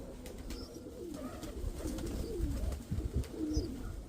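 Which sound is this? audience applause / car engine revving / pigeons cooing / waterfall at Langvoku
pigeons cooing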